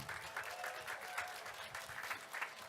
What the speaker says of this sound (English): big round of applause, please, for Gerald Lloyd